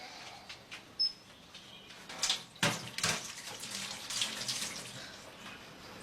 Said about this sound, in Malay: Pergi cuci tangan.